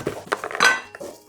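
A GreenPan pot with a ceramic surface is handled, giving a few quick metallic clinks and knocks close up over about a second.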